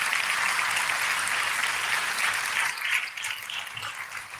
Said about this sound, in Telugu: మరి చప్పట్లు కొట్టాలి కదా ఇక్కడ.